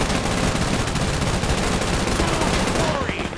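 Dense, loud gunfire fills the Men of War 2 battlefield, rapid machine-gun bursts and overlapping rifle shots rattling almost without a break.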